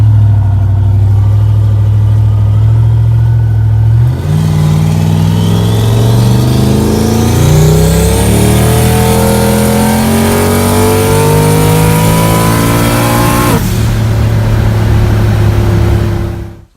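A turbocharged LS-swapped Mustang engine revs hard during street tuning, climbing from a deep idle to a loud rising wail that holds for several seconds before dropping back, close and continuous with no voices.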